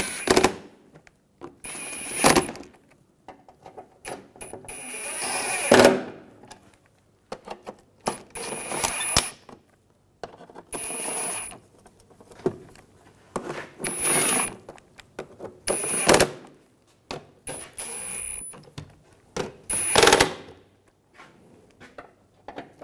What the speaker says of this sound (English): Now we can tighten all the other ones.